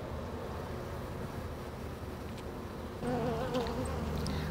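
Honeybees inside their hive give a dense, continuous buzzing hum, close and steady, which grows slightly fuller partway through, with no talk.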